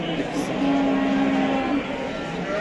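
Young Simmental bull calves low in a single sustained moo amid the murmur of a busy livestock market in Şarkışla, Turkey, with faint voices in the background.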